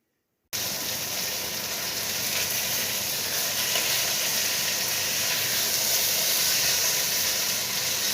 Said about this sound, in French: je vais les faire rôtir sur tous les côtés.